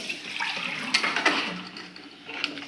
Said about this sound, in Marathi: त्यात पाणी टाका थोडं, दुप्पट पाणी टाकायचं आपल्याला